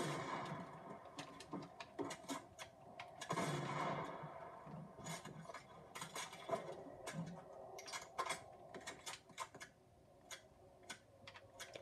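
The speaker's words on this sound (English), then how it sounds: "Lots of reloading." Weapons being reloaded in the video game Fortnite, with quick mechanical clicks and clacks, bursts of distant gunfire and rapid keyboard tapping, fairly faint and with no voices.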